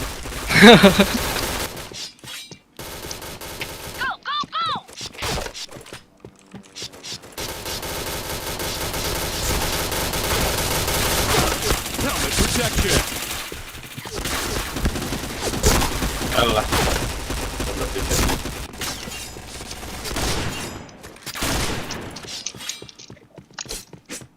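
Weapons in a first-person shooter game fire in loud, rapid bursts and longer automatic strings, with brief silent gaps between engagements. A player talks excitedly over the shooting.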